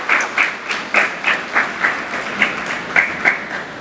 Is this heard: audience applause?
yes